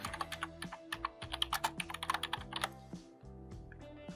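Rapid typing on a computer keyboard, a quick run of close, crisp key clicks that slows into a few scattered taps.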